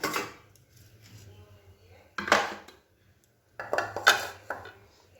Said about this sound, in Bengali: একটু চা করে নিই একটু আমাদের দুধ চাই করবো